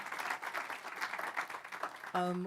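Guests at a book launch clap, a moderate, close patter of applause lasting a couple of seconds before a voice speaks over it at the end.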